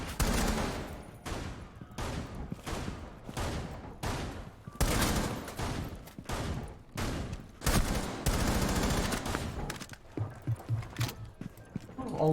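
Shotgun fire in the video game Rainbow Six Siege: a rapid string of loud, booming blasts in regular succession, clustered close together with a few short pauses, followed by quieter rumbling game sounds.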